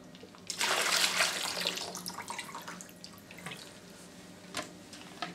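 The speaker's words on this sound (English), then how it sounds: "So now you're going to empty out the water from the canister." Water pours out of an emptied filter canister from a HiFlo RO30G/RO30C resin filter unit, a loud splashing gush that starts abruptly and tapers into lighter trickles and drips, with no voices.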